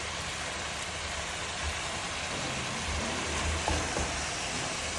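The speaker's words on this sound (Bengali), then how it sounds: "এই যে পুঁই শাকগুলো নাড়াচাড়া করে নিলাম" Malabar spinach frying with dried fish and potato in a pan, a dense continuous sizzle with soft stirring scrapes, steady and close throughout.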